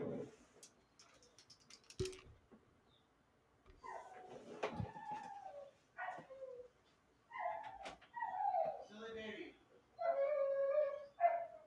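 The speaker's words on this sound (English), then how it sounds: "It is Walter the dog" A dog in a room whines and yips in a series of short, fairly soft whimpers scattered across the stretch, with pauses between them.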